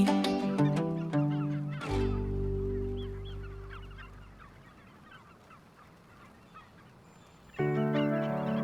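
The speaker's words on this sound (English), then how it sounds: "As you can see, the gulls attacking" Gulls in the Farming Simulator 25 video game call with loud, layered honking cries that fade into a quieter stretch before another burst of calls returns near the end.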